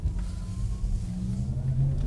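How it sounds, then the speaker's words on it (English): Synthetic electric sport sound from a Porsche Taycan 4S accelerating, a steady low droning hum with a faint rising whine, continuous and fairly loud, with no talking. "Let me turn on the electric sport sound, which is a really nice option. It makes this car sound like a Formula E car"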